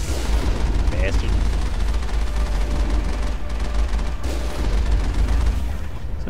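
Enemy gunfire in the video game Mass Effect, a dense continuous barrage of shots and booms under loud game sound, with a brief high whistling effect near the start.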